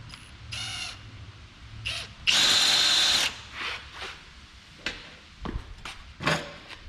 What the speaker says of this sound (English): So we're going to try and just Drill right there.